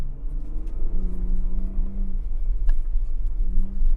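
A 2022 Ford Bronco Raptor drives over off-road whoops, its engine a steady low rumble with rising and falling tones as the suspension soaks up the bumps, close and continuous with no talking.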